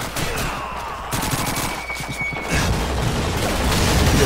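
Rapid bursts of gunfire ring out on a World War II battlefield in Call of Duty 2, with quick clustered shots over a low rumble that swells into a heavier, denser barrage toward the end.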